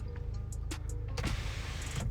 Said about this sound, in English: this is opening the sunroof